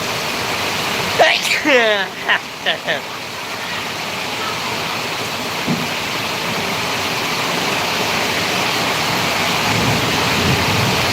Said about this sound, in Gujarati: જોઈ રહ્યા છો કેટલો વરસાદ પડી ગયો છે